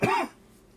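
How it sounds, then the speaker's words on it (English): A person with a cold and flu gives a single short, harsh cough up close, followed by near-silence. "Everything, and I can't stop coughing."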